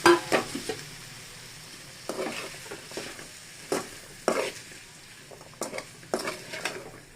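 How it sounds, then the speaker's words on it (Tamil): Masala noodles stirred in a pan make intermittent scraping and clinking strokes over a low, steady sizzle, each toss a short distinct burst with quieter gaps between. "இதிலே நூடுல்ஸை போட்டுக்கலாம். போட்டு கலந்து விட்டுக்கலாம்."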